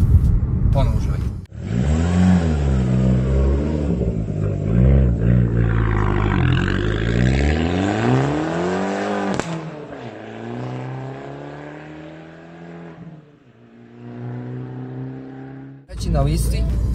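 A tuned car with a 1.4-litre engine and upgraded exhaust revs repeatedly, its loud, close engine note sweeping up and down in pitch before settling into a steadier drone that then fades.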